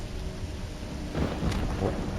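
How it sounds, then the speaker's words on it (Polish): Thunder in the video game Voices of the Void rolls in as a low rumble that swells midway over steady rain-like background noise, brief and fairly close. "Grzmotnęło coś znowu."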